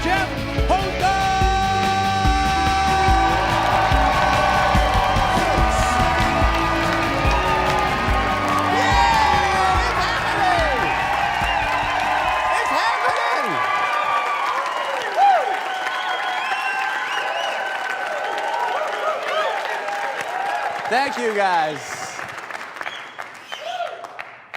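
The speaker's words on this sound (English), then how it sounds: "That is a great applause track we have." A canned applause track for a TV show, the Mystery Hour, swells into loud cheering, whoops and clapping over upbeat theme music that drops out midway. The crowd noise carries on alone before someone speaks briefly near the end.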